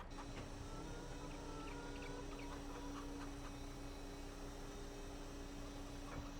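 Chickens in the farming game Farming Simulator 22 cluck faintly and intermittently over a soft, steady background hiss.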